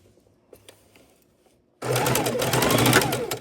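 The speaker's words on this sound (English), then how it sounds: "Then we can go ahead and sew the colors together." A sewing machine stitching quilt fabric strips together starts up after a few soft taps and runs in a fast, steady, close whir to the end.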